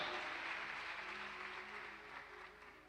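A church congregation at a Sunday worship service claps and cheers in praise of Jesus Christ, a dense, steady wash of applause that fills the room and eases off slightly toward the end, with a low musical hum underneath.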